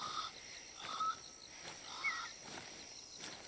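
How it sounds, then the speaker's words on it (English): A bird calls at night in TheHunter Call of the Wild on the Emerald Coast map, a few short, faint chirps over a quiet wild-animal ambience with insect and frog-like background calls. "that bird that's calling sounds like it really ought to be a pig noise"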